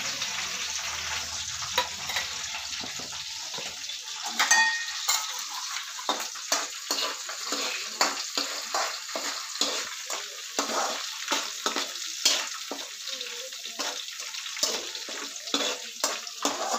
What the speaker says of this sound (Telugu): నేను సపరేట్గా ఎగ్ది ఫ్రై చేసుకుంటున్నా